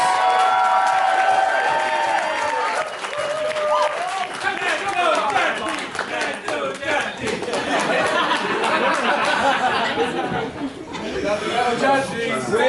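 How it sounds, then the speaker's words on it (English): Guests at a wedding reception burst into loud applause and cheering, clapping densely for the whole stretch while lively chatter and laughter run underneath. "give him a big round of applause."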